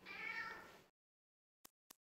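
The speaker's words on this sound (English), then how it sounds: "I hear a cat." A single drawn-out cat meow sounds close and clear inside the game Resolutiion, then stops, followed by silence and two brief soft taps.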